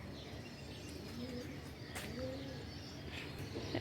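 Soft, low cooing from pigeons, a few coos repeating in the distance, with faint chirps and a quiet outdoor background.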